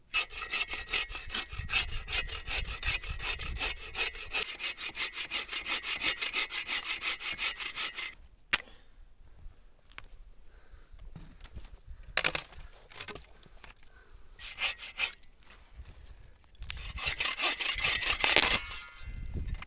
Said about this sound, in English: Let's get these branches trimmed down.